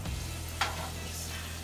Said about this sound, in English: see that bubbling up is actually frying